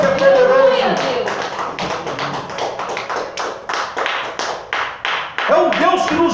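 A church congregation bursts into applause during a worship service, loud rhythmic clapping that settles into a steady pattern under a preacher's voice and then swells again at the end.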